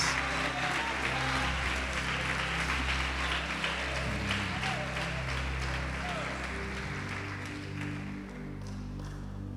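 A church congregation applauds during a sermon, a soft, steady patter of many hands over sustained low keyboard tones, continuing for the whole stretch and easing slightly near the end.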